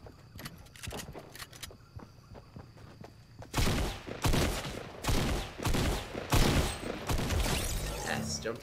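Gunfire in Fortnite played on Nintendo Switch with separate Joy-Cons: a quiet stretch of sparse distant shots and footsteps, then a loud run of sharp, rapid gunshot bursts close by, with light game sounds between.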